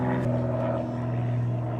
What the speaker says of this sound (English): Hang on, airplane flying over.